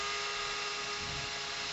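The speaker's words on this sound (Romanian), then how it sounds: "Acum încercăm să-i dăm găurile unde trebuie" A small power drill bores holes in a handmade bait basket, giving a steady close whine that runs the whole time at a constant level, with no talking.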